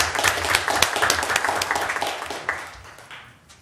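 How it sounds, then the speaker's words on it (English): Audience clapping at a school board meeting, a moderate patter of hands that gradually thins and fades over a few seconds. "Let's give them a round of applause,"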